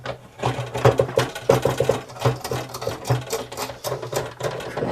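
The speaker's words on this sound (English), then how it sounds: "the clamp is just falling down in the guitar" A clamp rattles and knocks around inside an acoustic guitar body during a bridge glue-up, making a rapid, uneven run of hollow clattering taps up close that persists throughout.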